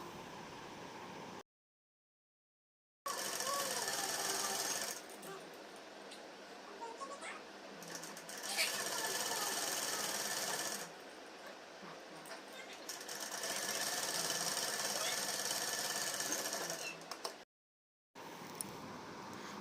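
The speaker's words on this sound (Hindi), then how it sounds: "अब मैं दूसरी साइड भी फोल्ड करके सिलाई कर लेती हूँ।" A sewing machine stitches the folded side of a baby suit's fabric in long steady runs, loud and close, with short pauses between bursts and brief silent gaps.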